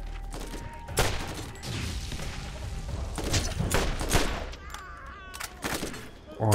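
Rapid bursts of gunfire in the video game Borderlands crack repeatedly, loud and close, with a muffled voice talking underneath.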